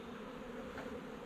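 Honeybees buzz in a steady, dense drone from a comb inside a tree trunk that fell in a storm, close and continuous with no voices.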